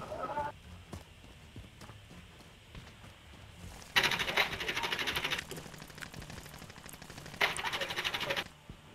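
Bursts of automatic gunfire from a Call of Duty match, a sustained rattling volley followed by a shorter burst, with quieter clatter and sparse talk in between.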